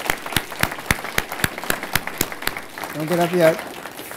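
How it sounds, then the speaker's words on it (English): Audience members at an academic symposium applaud a panel, with distinct, fairly close claps in a loose rhythm, then a spoken phrase cuts in as the clapping thins. "I would like to give this panel a round of applause for their courage in this movie."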